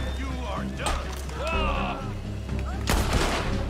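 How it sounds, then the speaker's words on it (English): Gunshots from the video game Red Dead Online, including a shotgun blast, ring out as sharp loud cracks with echoing tails among game ambience and mechanical clatter, while a player's voice exclaims over them. "Oh, I shot him."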